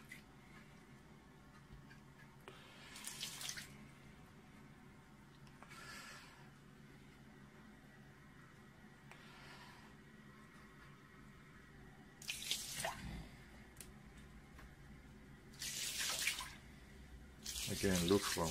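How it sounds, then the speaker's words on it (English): Quiet lukewarm water trickling and splashing in several short bursts over a Sky-Watcher 300P 12-inch Flextube Dobsonian telescope mirror, spaced apart, with faint background noise between them. "Let me just apply a little more water."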